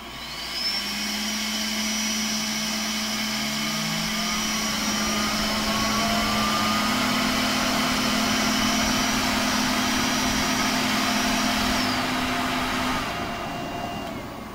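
The fans of a Creality K1 3D printer run at full speed, a steady loud whirring hum with high whining tones that holds for about fifteen seconds, with no talk.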